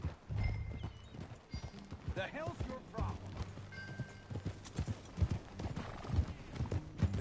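Horse hooves clip-clop steadily in Red Dead Redemption 2, the rhythmic hoof beats close and clear, with a brief whinny and a voice talking over the ride.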